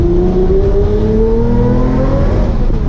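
An Alpine A110 sports car accelerating under load, its engine note rising steadily and loud and close through a quick single-clutch gear shift, with no talk over it.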